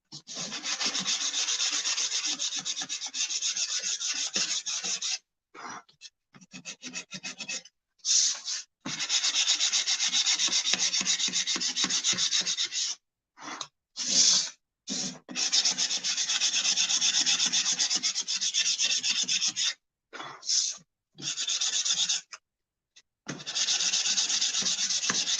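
Wooden "Family" photo frame edge being sanded by hand, a steady rasping scrub in long bursts broken by short pauses, close and fairly loud, with no voices.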